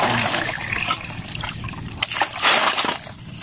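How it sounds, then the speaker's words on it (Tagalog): Water pours and sloshes out of a filled container beside a catch of sikad-sikad, a broad continuous splashing stream that swells briefly near the end, with no talk. "Bawasan natin tubig."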